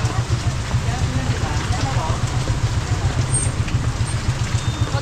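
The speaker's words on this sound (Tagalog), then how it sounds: "Walang tigil ang ulan kanina pa." Steady rain falls without pause through a rainy afternoon at a lechon eatery, a continuous dense hiss with a low rumble underneath, moderately loud and even throughout.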